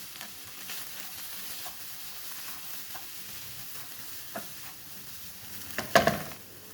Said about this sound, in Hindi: लंबी लंबी कटिंग की हुई बंद गोभी 1 कप। इसको सौते कर लेंगे।